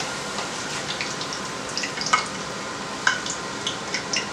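Steady broadband sizzle of tortillas frying in hot oil, with occasional louder pops and crackles scattered throughout, close by and without any talking.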